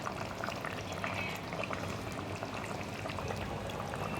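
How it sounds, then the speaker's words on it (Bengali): A pot of potatoes at a steady rolling boil as eggs go into the water, with continuous bubbling and gurgling at moderate volume and no talking. "আমি ডিমগুলো এর মধ্যে সব দিয়ে দিচ্ছি।"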